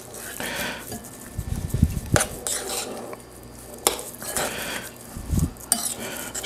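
Fresh parsley, sage and rosemary are mixed in a dish, with a spoon repeatedly clinking and scraping against the bowl in uneven bursts, close by.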